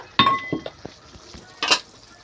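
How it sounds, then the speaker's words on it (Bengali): Soaked chickpeas are tipped into a pan of potatoes cooking for a cabbage dish, giving a few close clinks and rattles against the pan in two short bursts over a quiet background. "এইবার ভিজানো ছোলা দিয়ে দেব।"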